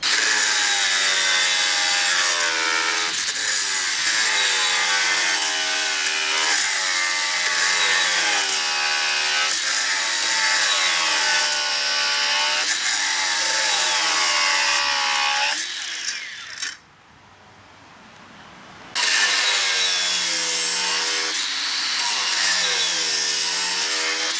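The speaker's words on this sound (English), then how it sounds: "cutting rebar. These are just a sort of speed / power test. 12mm and 16mm rebar, and I'll be using these cutting discs." Makita cordless 7-inch angle grinders, a 40V model and an 18V twin-battery model, cut 12mm and 16mm steel rebar. The grinding is loud, close and harsh, with pulsing pitch changes. It drops out briefly partway through, then resumes at full intensity.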